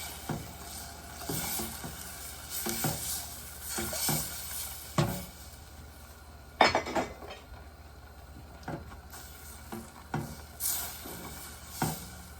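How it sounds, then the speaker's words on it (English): A pot of bubbling gluten-free teriyaki sauce is slowly stirred, with a soft steady simmer broken by repeated scrapes and clinks of the utensil against the pot, close up and without talk. "So I'm just gonna slowly stir that in and try not to make a mess everywhere."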